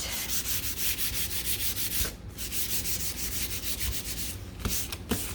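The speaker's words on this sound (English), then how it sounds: "take your sandpaper and give it a sand and smooth out that texture" Steady rhythmic scratching of sandpaper rubbed back and forth over the dried painted back of a wooden shiplap cow head sign, close and continuous with brief pauses between strokes.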